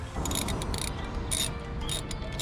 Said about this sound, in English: Don't over tighten these bolts.